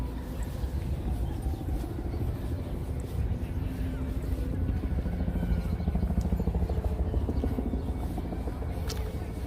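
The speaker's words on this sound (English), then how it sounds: "A helicopter in the sky." A helicopter drones steadily over Manhattan's Upper West Side streets with a low, throbbing rotor rumble that stays loud and constant throughout.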